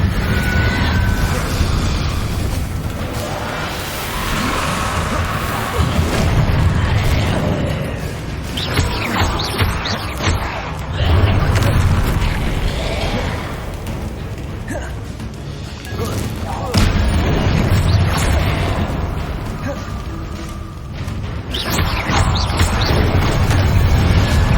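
Repeated Incendio fire spell blasts in Hogwarts Legacy, a chaotic run of loud thuds, crashes and booming bursts, irregularly spaced over a sustained noisy combat bed, with voices mixed in.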